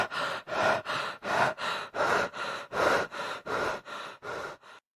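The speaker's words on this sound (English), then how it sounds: "that person gets tired and starts breathing very heavily" A person breathing heavily from exertion: a steady series of about a dozen loud, rhythmic, huffing breaths, each short and forceful, heard alone and close up.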